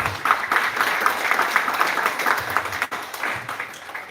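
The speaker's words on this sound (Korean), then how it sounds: "박수 한번 주세요" Applause fills the room at a super middleweight WBA Asia East title match contract signing and weigh-in, with steady, moderately loud clapping from a small crowd that dips briefly near the end.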